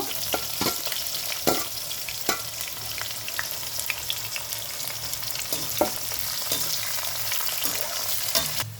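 Chopped onions fry in hot oil for a cauliflower fry, giving a loud, continuous close sizzle broken by occasional sharp stirring clatters.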